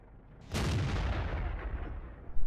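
A single heavy cannon shot from a Panzer IV tank in a World War II tank game on the El Halluf desert map, a sudden loud boom followed by a long rumbling decay.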